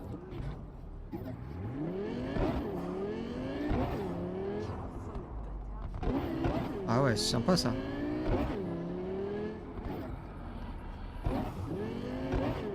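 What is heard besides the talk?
fast car driving and revving in Cyberpunk 2077 video game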